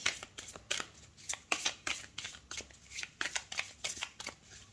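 Tarot cards are shuffled by hand for a new moon reading. The riffles come close and crisp in a steady, repeated rhythm of quick flutters with short pauses between them, and nothing else is heard.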